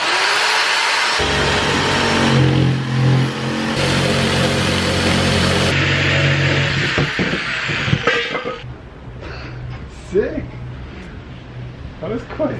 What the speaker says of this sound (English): now I'm going to cut the shape for the floor